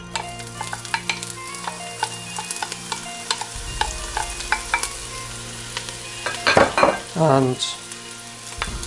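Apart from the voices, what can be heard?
onions frying in oil being stirred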